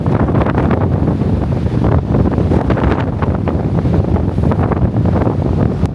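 Strong storm wind buffets a motorhome in Ireland, a loud, continuous roar with gusting surges and rattling buffets throughout, no voices.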